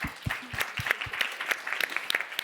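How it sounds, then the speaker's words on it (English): An audience at a business assembly session applauds. The clapping begins with a few scattered claps and quickly grows into a lively, uneven round from a modest crowd, heard close and without speech. "I think it's worth an applaud."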